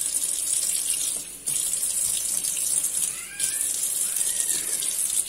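Tap water runs steadily into a kitchen sink to wet the top of freshly baked homemade bread, a continuous close hiss with a brief dip partway through and no talking.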